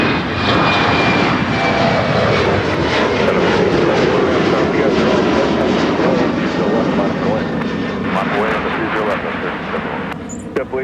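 Airliner jet engines roar through takeoff from runway 30 left at Minneapolis–St. Paul airport, a loud, steady broadband rumble that holds throughout while a radio voice talks over it.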